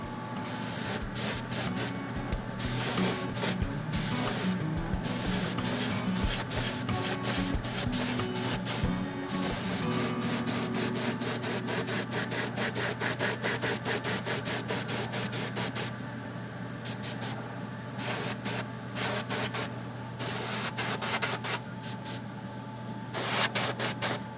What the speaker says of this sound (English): now we're ready for the flat coat, and for that I'm going to use Model Master Clear Flat Acrylic